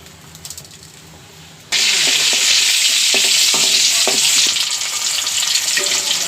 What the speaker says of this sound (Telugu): తాలింపు కోపు వేస్తున్నాం చూడండి ఎండుమిరపకాయలు ఆవాలు జీలకర్ర పచ్చెనపప్పు మినపప్పు వేసేస్తున్నాను